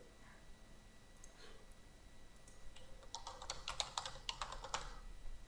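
Fingers type on a computer keyboard, starting with a few scattered keystrokes and then settling into a quick run of close, crisp clicks, with no voices.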